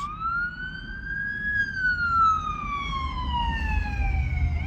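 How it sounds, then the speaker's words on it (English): Ambulance and fire truck sirens passing outside on a city street, a loud wailing tone rising then sliding down as the vehicles go by over low traffic rumble. "We now have had an ambulance and a fire truck."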